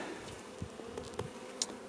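A honeybee drone buzzes close by at an open hive during an inspection, a soft insect drone with a few brief louder passes over a steady low hum.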